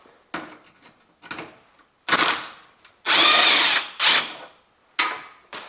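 A power drill spins out 10mm bolts from the front headlight housing of a Honda Civic, in several loud, close bursts of whirring separated by short pauses, with faint clicks between them.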